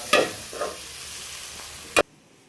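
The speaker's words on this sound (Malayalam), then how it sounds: "തക്കാളി ഇട്ട് നല്ലോണം ഇളക്കി കൊടുക്കണം." Tomatoes are stirred into a frying duck curry, giving a constant close sizzle with a few scraping stirs and a sharp final clank before the sound cuts off.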